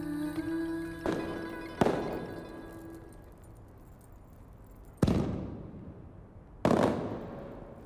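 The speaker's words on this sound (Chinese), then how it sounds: "媚娘，陪朕出去看烟花" Fireworks going off outdoors at night in an imperial palace, four sharp booming bursts spaced a few seconds apart, each trailing off into a fading rumble, with faint musical tones at the start and no talking.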